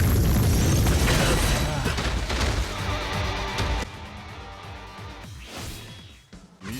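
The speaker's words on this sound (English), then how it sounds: "We can just go ahead and show off the soul bomb here." A soul bomb attack explodes in the mobile game Bleach Brave Souls, a loud booming blast with crashing bursts layered over dense game music, fading into quieter effects toward the end.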